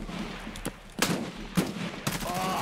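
Gunfire from an M4 rifle in the video game Escape From Tarkov: several sharp, loud shots at irregular spacing, some in quick pairs, close and unaccompanied by talk.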